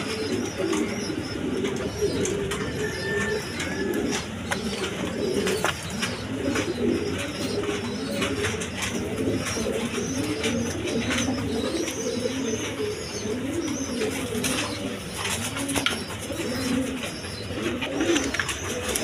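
Pigeons at a bird market coo and murmur without pause, a soft, layered burble of many birds. Faint chirps and a background hum run underneath.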